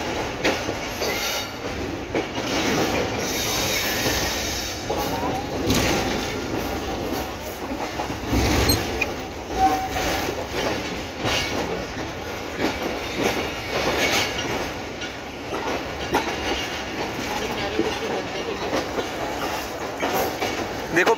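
The Karakoram Express passenger train departing Lahore, heard from on board: a steady loud rumble with rhythmic clickety-clack of wheels over rail joints and occasional wheel squeal, continuous throughout with no talk.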